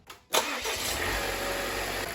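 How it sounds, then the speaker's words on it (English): A spark-ignited Volvo petrol engine starts with a brief crank, then settles into a smooth, steady idle, close and even throughout. "This engine runs really well, really smoothly."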